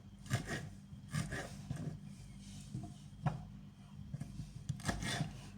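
Knife slicing tomatoes on a cutting board, repeated soft thuds and rough cutting strokes at an uneven pace, close by, with faint background murmur.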